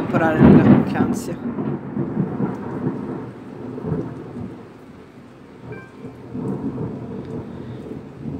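A thunderstorm rages in the video game The Letter: a loud thunder crack up front gives way to a long low rumble over a steady wash of rain, fading and swelling again toward the end.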